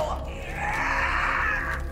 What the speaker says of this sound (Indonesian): Oh my god, dia teriak-teriak, guys. Ribut banget, San!